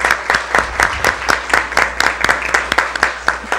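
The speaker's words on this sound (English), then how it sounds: "Give him a round of applause." Audience applause at a live-streamed community event, close, sparse clapping from a small group with distinct individual claps in an uneven rhythm.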